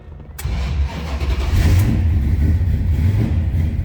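A 1970 Dodge Dart Swinger engine cranks on its push-button starter and catches, settling into a loud, steady rumbling idle close by with a brief rev.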